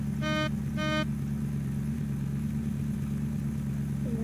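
A car engine in the zombie survival game Unturned hums steadily at a constant loud drone throughout, with two short beeping tones near the start.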